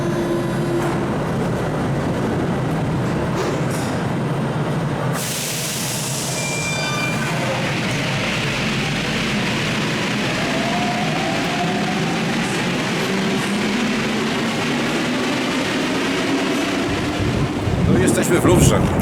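A Paris metro train rumbles along the track in a loud, continuous roar heard from inside the car, with a brief high squeal of wheels or brakes partway through and clatter near the end.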